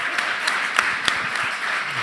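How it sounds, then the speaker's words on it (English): Audience applause at the Freedman's Bank Forum 2023, a steady wash of many hands clapping in a large room, with a few louder individual claps standing out and faint voices underneath. "We're going to give her another round of applause."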